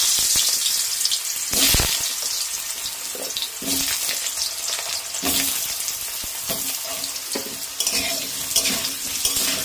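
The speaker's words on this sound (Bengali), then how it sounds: "এখন আমি আলুটা ভাজার জন্য ওই তেলের মধ্যে দিয়ে দেব।" Potatoes frying in hot oil in a pan for a vegetarian soybean pulao, a loud continuous sizzle with frequent stirring scrapes and bursts of spatter close by.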